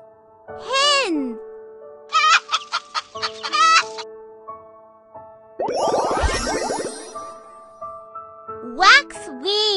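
A hen clucks in short bursts, with a rooster-like call partway through and a voice chiming in around it.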